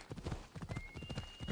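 Horse hooves clip-clop in the video game Assassin's Creed Odyssey, a quick, faint, even rhythm of hoofbeats over a short stretch, with a thin tonal whine in the background.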